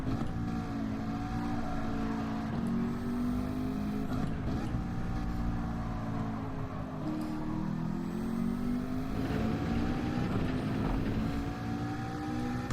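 Car engine humming and shifting pitch while driving on low-grip hard tyres in Gran Turismo 7, a steady, continuous drone with rising and falling revs.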